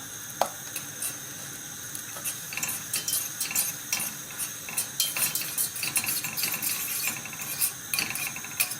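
Butter melting in a pan while being stirred, with a soft sizzle under repeated scraping and clinking of a utensil against the pan, close and busy with irregular strokes.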